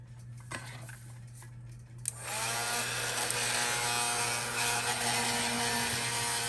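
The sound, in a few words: heat tool running for embossing a card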